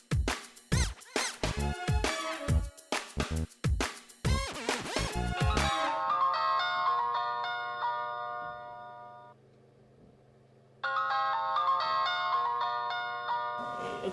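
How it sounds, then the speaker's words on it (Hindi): A phone's ringtone plays as a melodic electronic tune, loud and close, that stops briefly and then rings again, with no talking over it. "किसका फोन है?"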